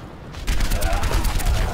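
A rapid volley of bomb explosions in the video game Overwatch's Junkenstein's Revenge Halloween brawl erupts after a brief quieter moment, dense, loud and crackling, like sustained gunfire.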